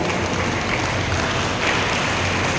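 Steady, dense applause from a church congregation fills the space, a continuous wash of clapping at even loudness without pause.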